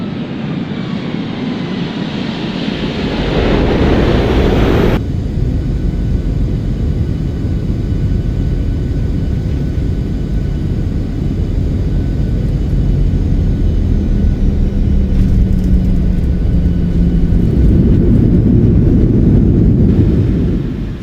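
A PMDG 737 airliner rolls out after landing on the short runway at Santos Dumont Airport in a flight simulator, with reverse thrust and manual braking giving a loud, continuous roar that shifts character early and stays steady throughout.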